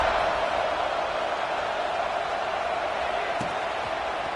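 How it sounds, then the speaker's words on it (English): A stadium crowd in a college football video game, Oregon against Georgia, keeps up a steady, dense buzz that holds at an even level throughout. "this crowd is buzzing after that last score"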